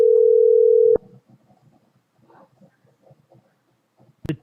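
A phone line gives one steady tone that cuts off after about a second. A faint, broken stretch of muffled call audio follows, and a short burst closes it, as the call rolls to voicemail.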